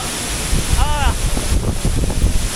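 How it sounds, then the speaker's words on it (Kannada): Chelavara Falls in Coorg roars during the monsoon as a steady, loud wash of broadband water noise, heard close up, with a brief whistling tone partway through. "ಫುಲ್ ಫಾಲ್ಸ್ ಸೌಂಡು ಕೇಳಿಸ್ತಾ ಇದೆ"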